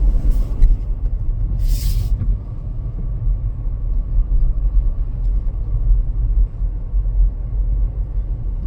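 A car drives slowly along a city street in St. Paul, Minnesota, during a winter blizzard, giving a constant low engine and road rumble from inside the cabin with two brief hissing bursts early on.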